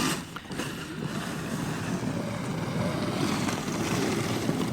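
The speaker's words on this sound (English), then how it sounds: "Crazy amount of torque for how small that motor is." Small brushless outrunner motor driving a Spyker KAT 2X 50V snow blower in cold weather, a steady close whirring drone that holds level for the whole stretch with no talk.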